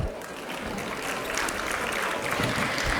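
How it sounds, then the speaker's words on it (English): Audience at a school investiture ceremony applauds the student council: dense, steady clapping from a crowd, fairly close and continuous through the short stretch, with no clear talk. "A huge round of applause for them."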